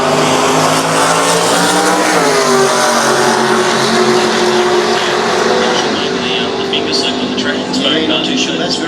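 A 1957 drag race car launches off the line at a Winternats drag meet. The engine roars loud and sustained, with a tire-squeal edge and a rising pitch, under an announcer's voice.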